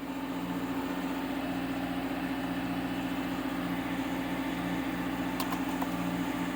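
A car engine idling after a cold start on a January morning, a steady, close, fairly quiet hum with a constant low tone and even pulsing, running unchanged throughout with no voices.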